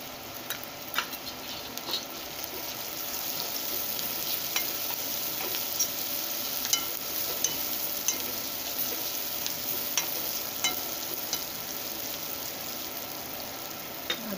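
Turmeric stirred into whole masoor lentil vegetables frying in a pan, with a steady close sizzle and scattered light scraping clicks of the spoon throughout, no talking.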